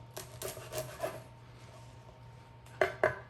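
A knife slices soft sourdough bread into small cubes for stuffing, making several short rasping strokes close by, with two louder cuts near the end and no talking.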